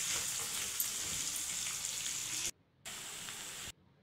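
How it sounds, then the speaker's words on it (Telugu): Onions fry with bitter gourd in a pan for a spicy onion curry, a bright continuous sizzle that cuts out abruptly twice into near silence before resuming. "కొంచెం ఉల్లిపాయలు కలర్ మారే వరకు వేయించుకోవాలి"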